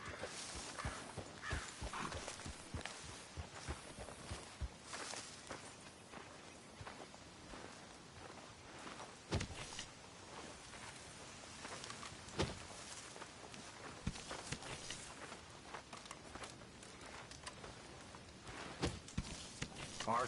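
Horse hooves in a video game clop at an irregular walking pace over ground, with scattered rustles and thumps, fairly quiet and close.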